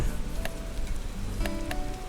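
Heavy rain falls in a Roblox game, a steady broadband patter with a few brighter drip-like ticks over a constant low rumble, moderately loud throughout.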